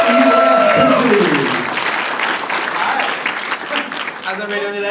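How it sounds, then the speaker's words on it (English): An audience claps and cheers as a presenter walks onto the stage for a live science demonstration. The applause is loud and sustained and blends into the crowd noise, with musical tones at the start and end. "Let's give him a big round of applause"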